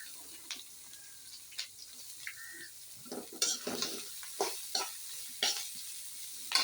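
Vegetables tipped into a pan of sizzling onions give a steady frying hiss, with scattered clinks, scrapes and stirring bursts growing busier toward the end.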